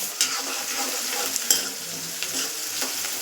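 Chopped garlic and onion being stirred in hot oil in a frying pan for besan shaak, a steady sizzle broken by a few sharp scraping clicks of the spoon, no voices.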